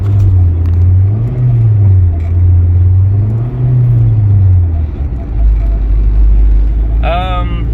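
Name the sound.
car accelerating with a failing transmission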